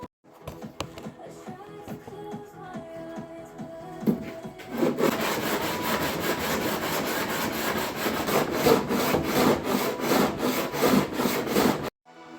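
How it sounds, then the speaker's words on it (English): Close, steady rubbing strokes of sanding on a Nissan R33 Skyline front bumper, quieter and lighter at first, then louder and continuous with rhythmic strokes until it stops abruptly. "we are going to carry on sanding for hopefully the last day so we can get this"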